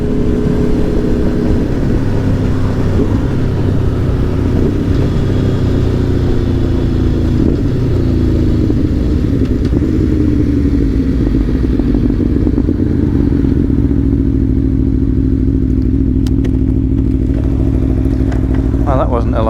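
An Aprilia Tuono V4 1100 Factory motorcycle on a ride along A roads, its engine droning loud and steady with shifting pitch, then easing and fading toward the end as it slows.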